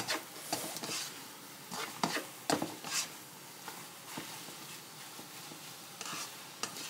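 Instant noodles with chicken and holy basil are stir-fried in a pan, with repeated scraping strokes over a light sizzle in irregular bursts, close by.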